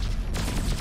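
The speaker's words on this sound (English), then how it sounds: "He's firing on them." Dense burst of gunfire from a space combat video game, a short loud rattling volley over a thick rumbling background.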